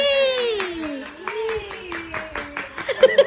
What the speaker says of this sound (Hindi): आप भी तालियां मार रही है